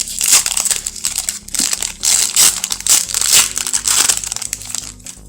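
A foil wrapper on a 2021 Bowman Platinum baseball card pack is crinkled and torn open up close, with loud, continuous crackling and crunching in uneven bursts.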